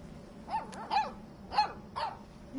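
A puppy barks during a game of fetch, four short sharp yaps in an uneven rhythm, moderately close against a quiet outdoor background.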